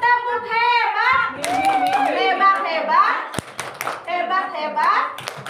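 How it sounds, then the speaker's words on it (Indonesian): Children clap their hands in a rhythmic group cheer, sharp bursts of claps mixed with loud chanting voices of an adult and kids close by. "Saya boleh tepuk tangan buat Mimi. Tepuk hebat dong, tepuk hebat."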